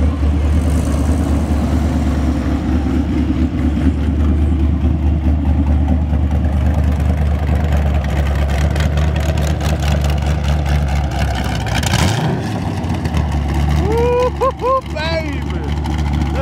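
Engines of a Volkswagen bus and an SLC Superlite idle at a car show, a steady low rumble that fills the whole clip, with a deeper surge near the middle and other show noise around it.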